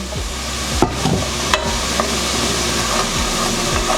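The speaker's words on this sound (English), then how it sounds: "I'm going to go ahead and add a little bit of cooking wine." Cooking wine, about a tablespoon, splashed into a hot pan of cooking green beans, giving a loud, close, continuous hiss with a few spoon scrapes and knocks over four seconds, no voices.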